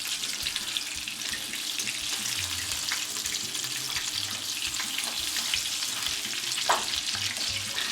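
Salisbury steak patties frying in a pan, a steady close sizzle with crackling throughout and a brief sharper clatter near the end as they are flipped; no talking.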